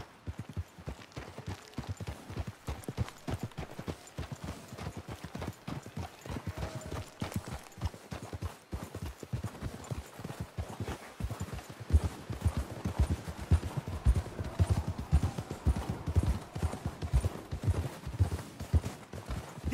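Horses gallop in Red Dead Redemption 2, a steady, dense drumming of hooves pounding throughout, fairly close and growing a bit heavier toward the end.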